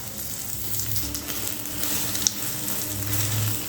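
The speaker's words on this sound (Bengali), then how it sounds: "আগে থেকে ফেটিয়ে রাখা ডিম দিয়ে ভেজে নিতে হবে" Steady sizzling of beaten egg frying in hot oil, close and continuous, with a brief clink partway through.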